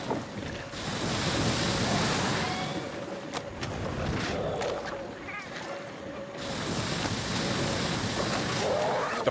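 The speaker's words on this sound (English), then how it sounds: "The power Lumu is able to conjure tremendous gusts of wind to abolish your guard." Strong, roaring wind gusts conjured by Paolumu in Monster Hunter World rush and swell continuously, loud and close, with whooshing surges under a narrator's voice.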